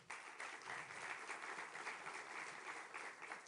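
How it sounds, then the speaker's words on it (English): Conference audience in Paris, at a two-state solution summit hosted by France, applauding: dense, steady clapping from a large crowd that fills the whole stretch without a break, with no talk over it. "Je vous propose qu'on les applaudisse une nouvelle fois."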